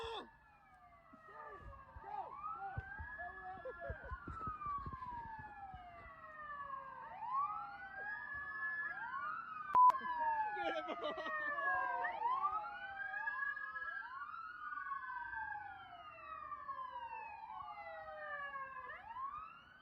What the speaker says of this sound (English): You realize when you play this many sirens